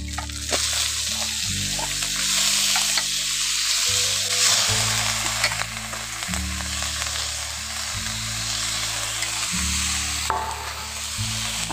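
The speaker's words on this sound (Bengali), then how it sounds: "এবার এর মধ্যে আমি এখন বাঁধাকপি আলু একসঙ্গে দিয়ে দিচ্ছি।" Cabbage and potatoes sizzle loudly in a hot pan with ginger, a steady frying hiss with stirring and scraping throughout, no talk.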